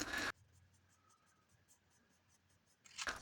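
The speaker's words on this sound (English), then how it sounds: "I cut it out, flip it over, and trace the other side." Pencil tracing a curved outline onto a piece of pine scrap wood, a faint, soft scratching under quiet room tone, bracketed by louder handling bumps at the start and end.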